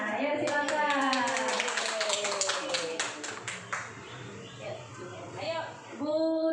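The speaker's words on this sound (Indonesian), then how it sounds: "kita akan tepuk semangat terlebih dahulu" Rhythmic 'tepuk semangat' clapping ice-breaker led by a teacher, a group of women clapping patterned beats together with voices chanting along, steady and close, the rhythm breaking into scattered claps and talk toward the end.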